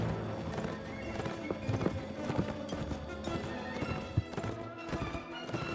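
Cavalry horses in Mount and Blade Warband, a steady patter of hoofbeats with occasional whinnies over a dense, busy background, moderately loud and continuous.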